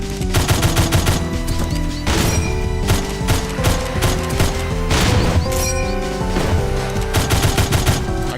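Dense, rapid gunfire barrage in a Doom-based first-person shooter, loud and continuous with repeated sharp bursts over pounding game music, no talking.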